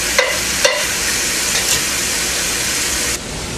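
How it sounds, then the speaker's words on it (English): Squirrel meat frying and browning in a pan, a loud steady sizzle throughout, broken by a few brief clinks and scrapes from stirring. "while the meat is beginning to fry"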